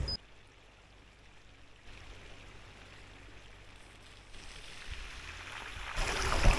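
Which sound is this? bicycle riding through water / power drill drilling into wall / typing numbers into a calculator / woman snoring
bicycle riding through water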